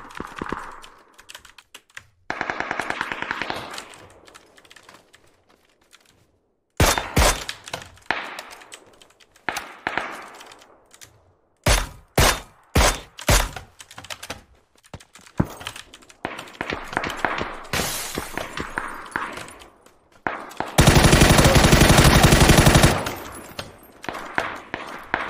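Automatic gunfire sprays at a wall in a video game, coming in loud, rapid bursts separated by quiet gaps, with a long sustained burst near the end.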